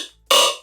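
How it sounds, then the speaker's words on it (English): A short, bright jump-up drum and bass synth bass stab hits suddenly after a faint decaying tail, buzzy and full, then fades quickly. "these are all different bass sounds which sound like this."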